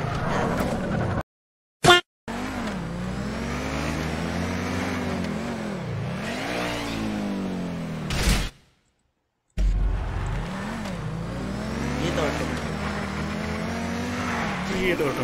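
Race cars in GTA roar along, engines rising and falling in pitch as they accelerate and shift, loud and continuous, broken by brief silent gaps and a couple of sharp bursts, with people talking over it.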